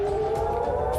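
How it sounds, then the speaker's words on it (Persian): An air raid siren wails in Jerusalem during an Iranian drone attack, a steady sustained tone heard from a distance with no speech over it. "صدای آژیر خطر در اورشلیم به صدا در آمد"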